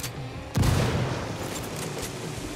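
A frag grenade blows up in a PC shooter game with a sudden heavy boom about half a second in, then a dense rumble of gunfire and battle noise rolling on.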